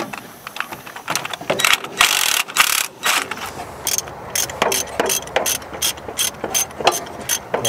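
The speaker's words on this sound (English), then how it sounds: "you might have to get a wrench on that one." Ratchet wrench clicking on an engine bolt of an old abandoned truck being rebuilt, loud and close, with quick bursts of sharp ratcheting strokes separated by brief pauses.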